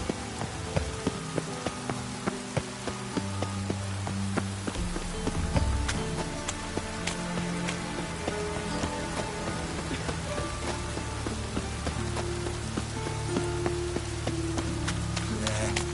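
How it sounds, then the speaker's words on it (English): Steady rain falls in The Witcher 3 video game, a dense patter with sparse drips over a low, sustained musical drone, with no talk. "Rain like this would fetch a fortune, Zelkane."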